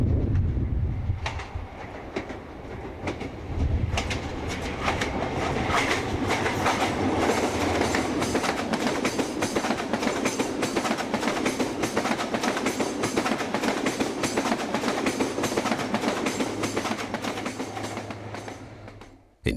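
HST high speed train running along the coast into Paignton, a loud sustained rumble with rhythmic clickety-clack from the wheels over rail joints, holding steady for most of the run before fading near the end.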